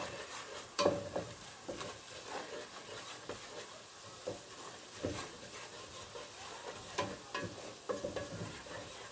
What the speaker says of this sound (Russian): Нам нужно ее слегка в масле обжарить.